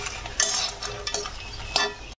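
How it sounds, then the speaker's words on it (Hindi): Makhana (fox nuts) dry-roasting in a pan, stirred with a utensil, giving a steady light rustle and rattle with a few sharper scraping clinks against the metal. "इनको भी हम अच्छी तरीके से रोस्ट करेंगे मखानों को"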